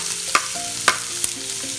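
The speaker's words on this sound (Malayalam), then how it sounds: "ഒരു വലിയൊരു സവാള ഇതുപോലെ പൊടിയായിരുന്നത് അതുകൂടെ ചേർത്ത് കൊടുക്കാം" Chopped onion fried in oil with mustard seeds for a Kerala clam roast, giving a steady close sizzle with a few sharp spatter pops, no voices.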